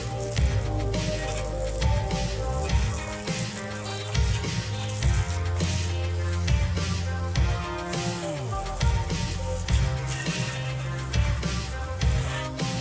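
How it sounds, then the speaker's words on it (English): Water sprays over a Lectric XP e-bike, a continuous splashy patter that rises and falls over steady background music, with no voices. "Let me go ahead and wash it off. Rinse it off, should I say."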